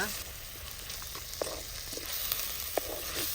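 Tomato masala frying in a pan for a quick egg dish, a steady broadband sizzle with a few sharp pops and stirring taps, close and continuous with no talking.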